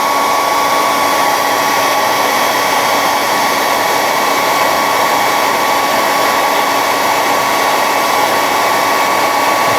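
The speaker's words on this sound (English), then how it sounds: "because the hairdryer gets hot really quick" A hairdryer blows steadily at close range while heating resin model kit parts, a loud constant whine and rushing air with no change in level throughout.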